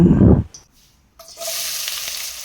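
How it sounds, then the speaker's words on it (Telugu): Onions and green chillies dropped into hot oil in a pan, a brief heavy rumble, a moment of quiet, then an even, moderate sizzle that keeps going. "ఆనియన్స్ మిర్చి వేసుకుందామండి వీటిని నిదానంగా ఆయిల్లో వేయించుకుందాం"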